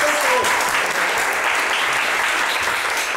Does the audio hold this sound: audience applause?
yes